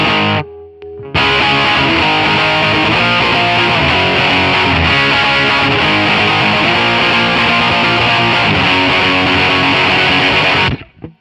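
A pop punk electric guitar played through an Amplitube 5 distortion tone, thick crunchy power chords ringing loud and steady for about ten seconds after a brief quiet start. No voices.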